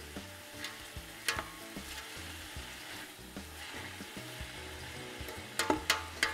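Vegetables sweat in a pan over low heat without browning, giving a steady soft sizzle with occasional stirring clicks and sharper clatters near the end, close and alone.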